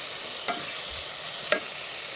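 Whole spices, including bay leaf, cinnamon, cardamom and cloves, fry in a pan with a steady close sizzle, and two brief scraping stir strokes cut through it.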